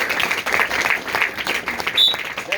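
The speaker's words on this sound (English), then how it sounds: "Give him a big round of applause." Steady applause from an audience, a dense wash of clapping that holds at a constant level throughout, with a faint voice briefly rising over it.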